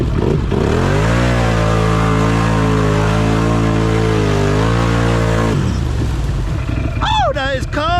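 A Can-Am Outlander ATV in low four-wheel drive revs hard in mud. The engine gives a loud, close, sustained roar that rises and falls in pitch, cuts off after about five seconds, and is followed by a short, wavering vocal sound.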